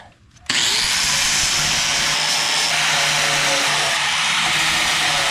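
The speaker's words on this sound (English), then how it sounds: "did some grinding of that atrocious welding" An angle grinder grinds down rough welds on a rust patch repair panel, starting abruptly after a brief quiet moment and then running loud and continuous with a harsh, hissing abrasive tone.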